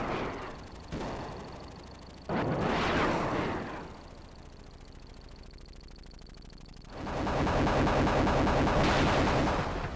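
Helicopter gunfire blasting tanks in the Sega Genesis game Desert Strike, loud bursts of cannon fire and explosions in two main stretches separated by quieter game noise.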